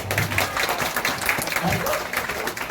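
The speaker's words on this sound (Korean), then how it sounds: "야, 박수 한 번 쳐줘." Children in an elementary Sunday school class clap together, a dense burst of hand claps close by with an adult voice speaking over part of it.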